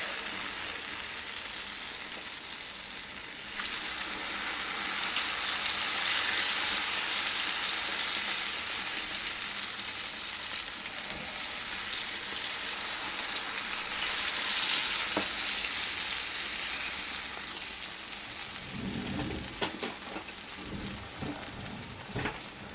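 Akara bean fritters frying in hot oil give a steady, dense sizzle that swells louder for stretches and eases back, with a few sharper crackles and spatters near the end.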